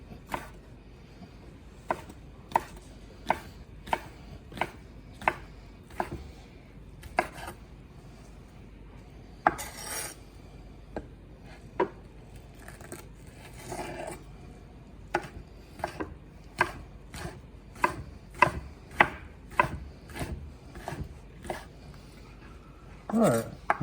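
Knife chopping spicy Louisiana smoked sausage on a cutting board, sharp regular taps in a steady rhythm with short pauses, close and clear, with some board and utensil clatter mixed in.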